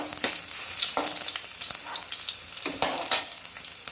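Garlic and ginger frying in a pan for a spicy mint chutney, a steady close sizzle with scattered crackles and a few brief stirring scrapes, no voices.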